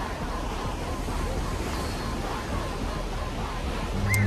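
Ocean surf at a beach, a steady broadband roar of waves washing in with some wind noise, loud and continuous with no pause.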